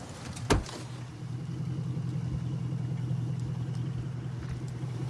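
A truck engine idles with a steady, low, throbbing rumble throughout a roadside police traffic stop near a motel, preceded by a brief sharp thump near the start, with no talking.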